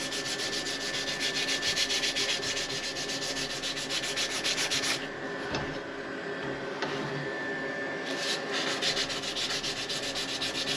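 Continuous rhythmic rasping of sandpaper worked over a Coke bottle bushcraft knife handle, loud and close, with a brief pause midway before the rubbing strokes resume.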